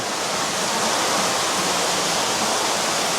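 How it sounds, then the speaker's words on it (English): Water jets bubble in a small, warm spa pool aboard the Cunard cruise ship Queen Elizabeth. The rushing, fizzing wash is steady, loud and uninterrupted, with no voices over it. "It's got the bubbling feature there."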